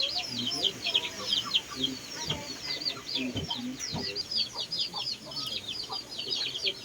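Backyard chickens cluck and chirp in frequent short, high bursts at close to middle distance, with a few lower clucks mixed in and a faint bit of background talk.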